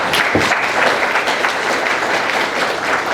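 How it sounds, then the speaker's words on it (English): Loud, sustained applause from a tourism panel audience at a Sandals resort, a thick continuous wash of many hands clapping at close range. "Can we get a round of applause for them?"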